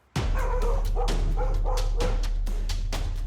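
A dog barks repeatedly in quick, uneven yips and woofs, close and fairly loud, over a steady low hum.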